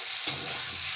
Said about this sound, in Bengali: ভালো করে কষে নিচ্ছি